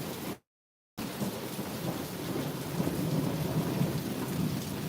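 A thunderstorm with heavy rain drums steadily on the lid of a cooler outdoors, a dense continuous patter that swells slightly over a few seconds after a brief cut to silence at the start.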